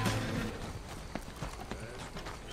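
A horse's hooves clip-clop at a walking pace in a western video game, a series of distinct close hoofbeats over a rushing outdoor ambience.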